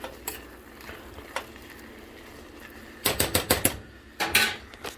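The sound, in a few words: stirring pea soup in pot off the heat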